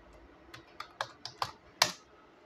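Keystrokes on a computer keyboard while working in the vi text editor on Linux, six separate taps spaced unevenly across a couple of seconds, the last one firmest, close and clear with no talking.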